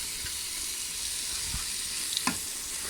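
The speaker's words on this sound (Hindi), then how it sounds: "आप इसे उस वक्त तक भूनें जब तक ये घी ना छोड़ दें।" A carrot barfi mixture with almonds, pistachios and coconut roasts in ghee, a steady close sizzle with occasional stirring scrapes and soft knocks of the spoon against the pan.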